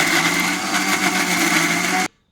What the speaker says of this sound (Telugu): కొంచెం బరకగా అయినా మిక్సీ పట్టుకోవచ్చు